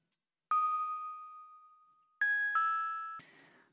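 Bell sample used to accent chord changes in a boom bap beat: a bright struck tone rings out and decays, then after a pause two more strikes follow close together, the last cut off abruptly.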